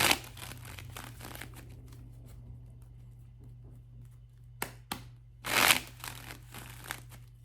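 Tarot cards are shuffled and drawn by hand, giving soft crinkling and riffling bursts close by, with two sharper flurries near the end and quieter handling between.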